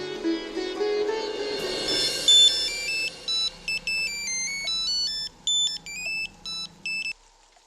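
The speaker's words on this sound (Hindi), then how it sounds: "मैं अभी फोन करता हूँ अजीत को।" A telephone ringtone plays a bright electronic melody, loud and close, its chiming beeps repeating in short bursts before stopping.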